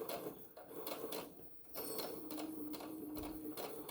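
A sewing machine stitches through a thick layer of tote bag fabric, giving a steady mechanical whirr with rapid rhythmic pulses that run almost continuously, dipping briefly midway before resuming at full pace.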